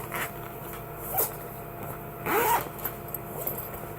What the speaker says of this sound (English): That just has a zipper across it.